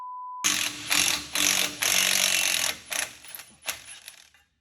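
An impact wrench drives lug nuts onto the spindle studs of a Jeep during an LS swap, firing in several loud rapid bursts of hammering rattle, with short pauses between them and a brief tone at the start.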